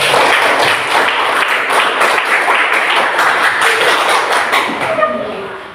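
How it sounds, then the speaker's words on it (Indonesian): A classroom group applauds, with dense, steady clapping from many hands at close range that tapers off toward the end. "Mari kita berikan aplaus."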